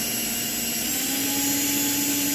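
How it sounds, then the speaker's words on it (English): A power drill boring through the pot metal post of a die-cast Matchbox or Hot Wheels toy car makes a loud, steady motor whine that runs unbroken for the whole stretch, with no voice over it. "after you get the drill started, you can speed it up."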